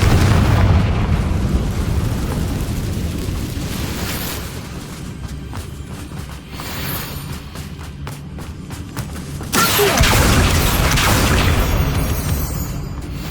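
A Confringo spell explosion in the video game Hogwarts Legacy gives a loud, sustained booming blast with rumbling debris, which surges again near the end of the clip.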